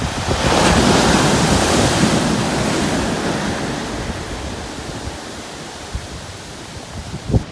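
Ocean waves wash onto a black sand beach in Santa Ana, Cagayan, Philippines, in a loud, broad rush that slowly recedes, with gusty wind buffeting the microphone.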